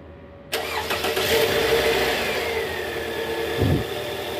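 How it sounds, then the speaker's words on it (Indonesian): A 2002 Toyota Camry with a 2ZFE engine, just repaired after an oil leak and balancer shaft replacement, cranks and catches, then settles into a loud, steady close-up idle with a brief rev near the end. "Ini mau awal starter. Yuk starter."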